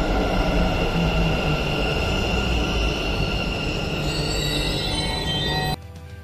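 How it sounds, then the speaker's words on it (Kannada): Metro train ride toward Vidhana Soudha station in Bengaluru, a loud continuous rolling hum and whine from inside the carriage that cuts off abruptly near the end, with no voices. "ನಾವು ಮುಂದೆ ಮೆಟ್ರೋದೊಳಗೆ ವಿಧಾನಸೌಧಕ್ಕೆ ಬಂದ್ವಿ"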